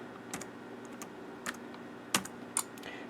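Scattered keystrokes on a Dell Latitude 2120 laptop keyboard, with a faulty keyboard, click softly and unevenly in a quiet room, about five distinct taps.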